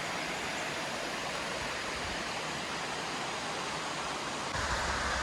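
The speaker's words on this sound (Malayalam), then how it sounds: "ഈ വെള്ളം ഇങ്ങനെ ഒഴുകണ സൗണ്ട് കേൾക്കാൻ പ്രത്യേക രസമാണ്." A small waterfall pours steadily in a forest area where elephants roam, a dense, continuous broadband rush of flowing water that swells slightly louder near the end, with no voices.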